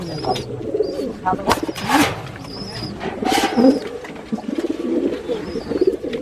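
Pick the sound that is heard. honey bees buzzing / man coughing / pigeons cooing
pigeons cooing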